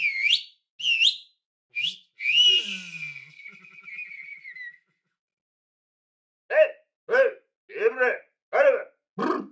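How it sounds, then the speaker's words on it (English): Two short rising whistles and a long wavering whistled tone, then a pause before a run of short, loud shouted cries in quick succession. "We also had our performer whistle and shout."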